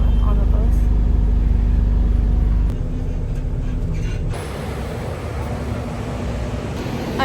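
Riding an empty city bus in England, a low engine rumble and road noise fill the cabin, dropping and shifting partway through as the bus changes speed, steady and close.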